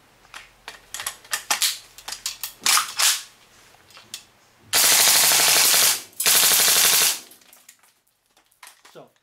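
A WE AK-74 airsoft rifle with an upgraded trigger and steel parts fires full auto on green gas, two loud, dense bursts of rapid shots about a second each, close by, with clicking handling noises before them.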